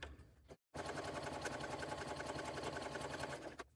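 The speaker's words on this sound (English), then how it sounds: "I'm going to sew straight down this edge using the edge of the presser foot as a guide" A sewing machine stitches vinyl trim onto a zipper panel in one continuous, steady whirring run after a brief pause, loud and close with no talking.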